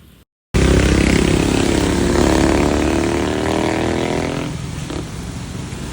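A motorcycle engine roars close and loud with a steady droning hum that eases slightly toward the end, following a brief silent gap at the start.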